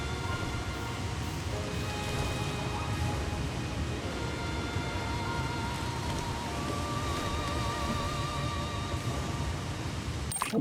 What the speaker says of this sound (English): it's raining pretty good here. Not just in game